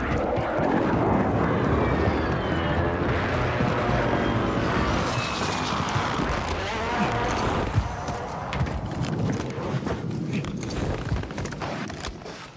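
A recon aircraft sweeps over a Call of Duty Warzone match, its steady engine drone filling the mix loudly and continuously under a bed of other game noise and some talk.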